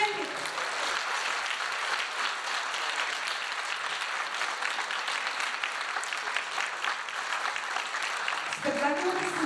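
Theatre audience applauding after the closing credits of a staged folk-mythology performance, a steady dense clapping that holds throughout, with a faint voice near the end.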